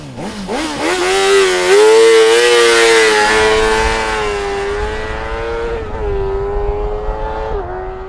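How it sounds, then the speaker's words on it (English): Honda CBR600RR sport bike engine revving nearby, a sharp whining rise up to a sustained high-pitched scream that holds for several seconds before easing down and dipping briefly near the end. "It sounds fabulous, really screams like a race bike, the engine."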